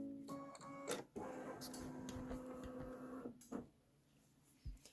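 An embroidery machine scans hooped fabric for a bench pillow top, giving a faint mechanical hum with a steady tone and scattered ticks and clicks, quiet and close.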